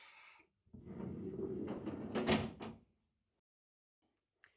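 The main sliding door of an Emco Concept Mill 155 machine enclosure rolls open in one loud, continuous rumbling slide of about two seconds, ending in a clunk, followed by silence and a faint tick.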